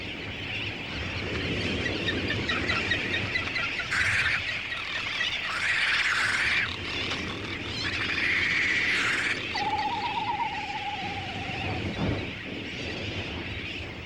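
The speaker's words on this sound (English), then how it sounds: "is a breeding site for vast numbers of seabirds" A crowd of seabirds calls at a busy breeding colony in Hawaii. Overlapping raucous cries and honking squawks swell and fade in waves over a dense background din, and a long wavering call rises clearly near the end.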